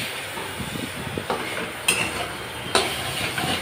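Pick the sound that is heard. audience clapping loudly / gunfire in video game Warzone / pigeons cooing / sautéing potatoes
sautéing potatoes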